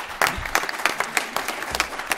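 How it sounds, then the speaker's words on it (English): Audience applause at a symposium, with scattered sharp claps, steady and moderately loud, fading unevenly toward the end. "one more round of applause for our guests"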